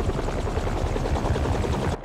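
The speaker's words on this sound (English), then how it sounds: "helicopter's blades." Helicopter blades thump in a rapid, even pulse in the Spider-Man 2 video game, a loud close low chop that holds steadily before a brief dip at the end.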